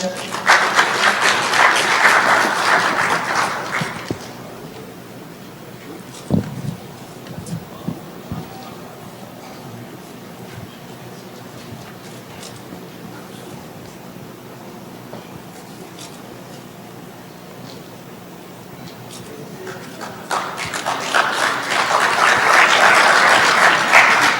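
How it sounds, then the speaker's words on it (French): Applause at a year-end ceremony for foreign students in Bejaia, loud clapping for about four seconds, then a quieter stretch with scattered sounds, and clapping that swells again over the last few seconds. "Monsieur Jaffrey, sous vos applaudissements s'il vous plaît."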